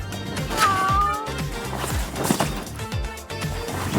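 A pet cat meows in a drawn-out, wavering cry near the start, followed by softer mews and rustling over a busy, noisy background.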